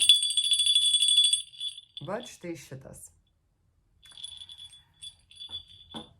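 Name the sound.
two small bells ringing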